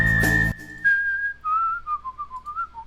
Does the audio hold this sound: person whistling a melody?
yes